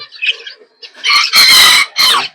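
Backyard chickens cluck and crow close by near their nesting spot, loud bursts of repeated squawking with short pauses between, no talk.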